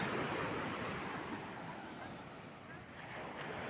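Waves on a large beach in Goa, heard as a soft, continuous wash of surf with a faint airy rush from wind, fairly distant and steady throughout.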